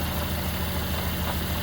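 An old first-generation Honda Civic engine idles steadily, a low throbbing rumble with a rough, even pulse, close by and without voices.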